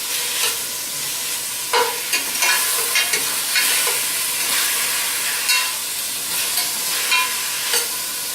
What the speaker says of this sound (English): I'm constantly stirring to keep it from sticking to the pan